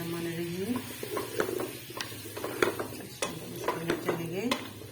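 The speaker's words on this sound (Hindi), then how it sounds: "यहाँ पे मैं डालूंगी शलजम डालूंगी पहले" Turnips are tipped into cooked masala in a pot and stirred, giving scattered scraping clinks of a spoon against metal with faint sizzling beneath, close and fairly quiet, with some background voice and hum.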